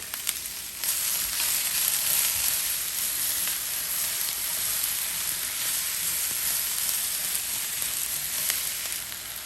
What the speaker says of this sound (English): gonna add in our peppers. And also the minced garlic.